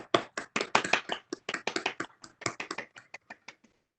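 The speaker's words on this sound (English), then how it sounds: "Join me in an applause." A small audience at a school board meeting gives a short round of applause: sharp, close hand claps that start strong, then thin out and trail off over about four seconds.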